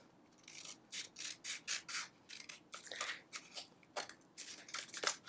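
Scissors snip around a paper outline for a desk calendar kit, a quick run of close, crisp cuts in a loose rhythm, quiet and alone.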